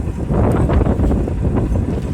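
Strong wind near a waterfall in rainy hills, a loud, rough, continuous low rumble buffeting the microphone throughout with no voices.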